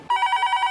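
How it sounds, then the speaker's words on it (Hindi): A telephone rings with a steady electronic warble that pulses evenly through the short span, loud and close, with no voices. "शोम, किसका फोन एक्सपेक्ट कर रहा था और किसका आ गया?"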